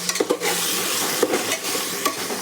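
Onion, tomato and peas stirred together in a pan over low heat for masale bhat, a dense close sizzle broken by a few sharp spoon-scraping knocks, no speech.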